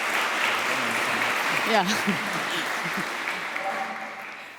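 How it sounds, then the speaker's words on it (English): An audience gives a panel discussion's speakers a round of applause, a broad, sustained clapping that gradually tapers off as a single voice speaks briefly in the middle. "just give them a huge round of applause."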